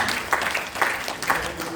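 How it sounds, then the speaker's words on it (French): A church congregation claps in praise of God at a French-language worship service, a steady crackle of many hands with periodic louder swells, close and fairly loud under sung or chanted voices. "Applaudis mon Dieu, applaudis mon Dieu"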